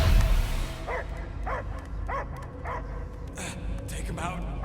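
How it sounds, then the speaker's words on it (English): A dog barks in the Guardians of the Galaxy video game, giving about five evenly spaced, whining yelps and barks over a steady low game hum, with voices talking at points. "I hear only barking."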